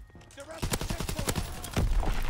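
Gun firing in the shooter game Call of Duty WWII: a rapid series of sharp, evenly spaced shots lasting under two seconds, moderately loud, with faint game noise behind it.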